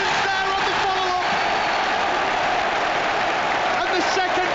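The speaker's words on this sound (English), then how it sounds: "Applause from Anfield." Stadium crowd at Anfield during a Liverpool v Tottenham Premier League match, applauding and roaring loudly and continuously after a Liverpool goal, a dense wash of cheering with a commentator talking over it.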